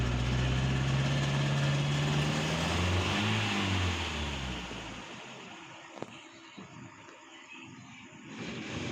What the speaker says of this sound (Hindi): एक्सीलेटर दबाया हुआ मैंने और मिस फायर भी आप चेक कर सकते हैं